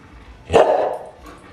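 A single short dog bark rings out close by during a car side-skirt installation on a 2020 Subaru WRX STI, one brief loud burst over quiet garage background.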